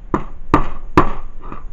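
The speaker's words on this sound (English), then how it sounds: "then hold it down, then grab your hammer" A hammer strikes the cap of a Nerf Maverick blaster during a modification, four sharp, close knocks at a steady pace, the last one softer.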